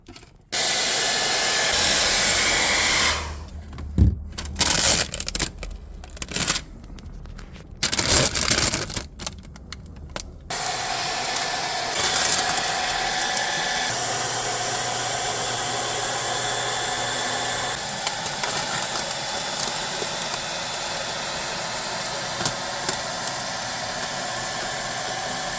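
Hair dryer blowing hot air onto automotive window tint film, a steady broadband whoosh broken by brief cutouts and bursts early on, then a continuous close, loud airflow.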